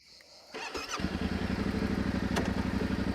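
Yamaha Tenere 700 adventure motorcycle engine firing up, then idling with a steady, close mechanical rumble as the clutch is eased out in first gear on a hill.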